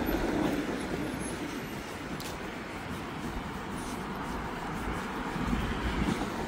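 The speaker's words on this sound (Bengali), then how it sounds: "হ্যাঁ, ট্রাম আছে গো, ট্রামের ইয়ে।" A tram passes along a wet Belgrade street on a winter night, a steady broad rumble that fills the scene without any clear peak and no talk.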